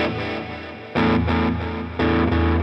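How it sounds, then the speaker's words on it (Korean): An electric guitar with drive, delay and plate reverb strikes two loud distorted chords about a second apart, each ringing and decaying into a washy tail, with no voices, for a worship song. "플레이트 리버브"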